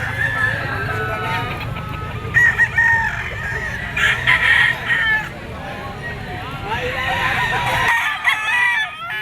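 Several gamecocks, including a bull stag, crow and cluck nearby in repeated bursts, with someone talking over them at times.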